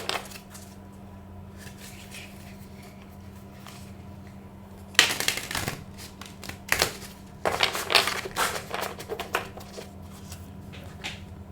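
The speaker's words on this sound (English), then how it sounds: "I'm just gonna shuffle and then cut." Quiet room hum, then bursts of rapid riffling and snapping as cards are shuffled nearby, in two or three quick flurries.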